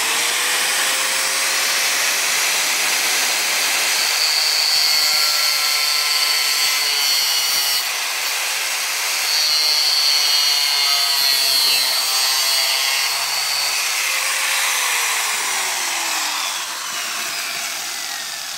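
An angle grinder cuts through a part on a two-door Samsung inverter refrigerator, a steady loud whining grind running the whole time with slight dips and surges as the disc bites, no talking over it.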